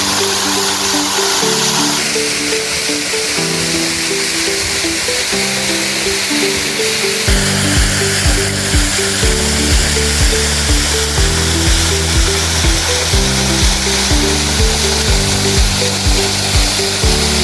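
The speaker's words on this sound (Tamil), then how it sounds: "அருவியில் கொட்டக்கூடிய இந்த தண்ணீரை பார்க்கும் போதே" Water pours down the Masila waterfall in the Kolli Hills with a steady, broad rushing roar, partly covered by loud background music with a repeating bass pattern.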